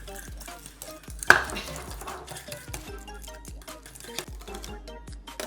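A large whisk scrapes and taps steadily around a pot of thick pastry cream (crème pâtissière), a rhythmic run of close clicks and scrapes with one louder clank early on.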